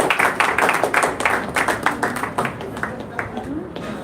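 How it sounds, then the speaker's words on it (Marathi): An audience at a state-level poetry convention and award ceremony claps in a loose, continuous patter of many hands, fairly loud at first and then tapering off. "तुमच्या टाळ्या कुठे गेल्या?"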